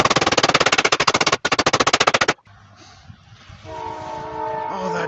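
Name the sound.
passing train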